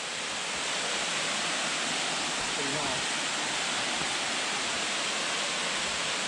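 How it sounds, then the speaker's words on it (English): A small waterfall in Maleny pours steadily, a dense continuous rush of falling water close by, with people talking briefly over it. "you guys get your first shot of this awesome little waterfall we got here"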